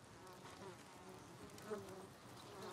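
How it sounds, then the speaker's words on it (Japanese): A bee buzzes steadily in the video game Ghost of Tsushima, a faint, wavering drone that stays in the background for several seconds with no talk. "蜂の音がするね。"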